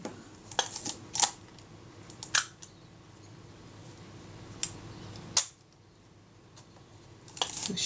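Several sharp mechanical clicks of a Retina Reflex type 025 camera shutter with a faulty release, spaced irregularly over a quiet background hum, close and distinct.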